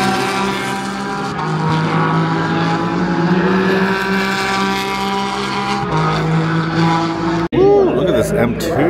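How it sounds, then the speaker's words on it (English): GT race cars at Sonoma Raceway during a GT World Challenge round, engines droning loudly and steadily as several pass close by, with a sharp burst near the end. "Get a view of the cars from over here racing by."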